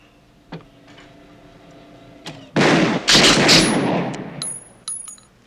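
A handgun fires on a TV crime drama: a couple of sharp, isolated clicks, then a loud, close burst of rapid shots lasting over a second and trailing off into faint ticks, with no talking.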